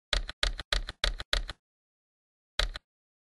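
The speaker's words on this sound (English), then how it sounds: "press the arrow keys to select a cell or range to return to" Arrow keys on a computer keyboard are tapped five times in a quick, even run, then once more after a pause. The presses are crisp, fairly close and isolated, with no talking.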